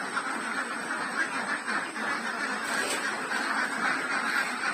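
A flock of young female ducks keeps up dense, overlapping honking quacks at moderate distance, a continuous busy chatter with no single bird standing out.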